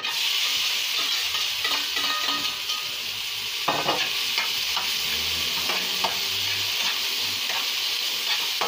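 Chopped onion and garlic fry loudly in hot oil in a village-style kitchen, with a dense, continuous sizzle and occasional scraping stirs close by.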